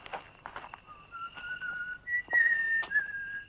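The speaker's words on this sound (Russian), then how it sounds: "А он мастер свистеть." A man whistles a coded signal, a series of short chirps followed by longer sliding tones and a rising-falling melodic line, clear and fairly close against a quiet background.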